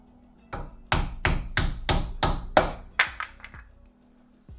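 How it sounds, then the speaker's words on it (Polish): Seven or eight sharp metal-on-metal hammer strikes on a chisel, knocking a cap off a Renault brake drum, in an even rhythm, ringing briefly after each blow, then a few lighter taps as it trails off. "Do tego użyjemy przecinaka i młotka."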